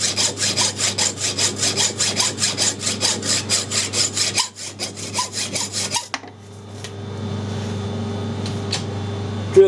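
Rhythmic back-and-forth strokes of a hand saw cutting off a workpiece for a camera mount jack wheel, steady and close for several seconds, then stopping and leaving a low machine hum.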